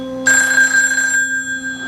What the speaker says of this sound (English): What about anonymous phone calls, Steve?